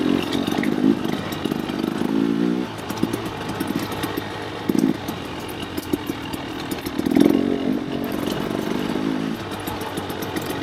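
A dirt bike's engine buzzes continuously on ATV park trails, revving up and down with a few sharper surges, heard fairly close throughout.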